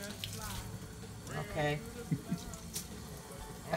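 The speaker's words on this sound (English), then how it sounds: "leave the water running a little wee bit" A kitchen tap left running a little while hands are rinsed during roasted pepper prep, a soft steady flow under brief speech and a few light clinks.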